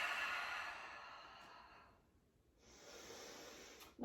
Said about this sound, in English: Nice deep breaths.